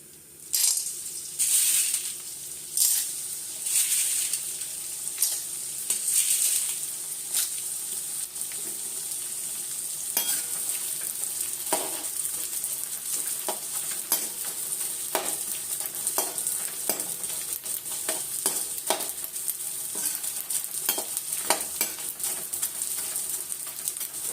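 Gond (edible gum) deep frying in ghee while being stirred, a steady crackling sizzle with frequent sharp scraping and clinking taps of the spoon against the pan, close and fairly loud, no talking.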